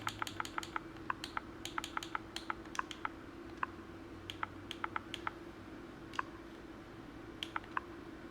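Keyboard keys tapped out in quick irregular bursts while a game title is typed into a store search on an Xbox Series X, crisp close clicks over a low steady hum.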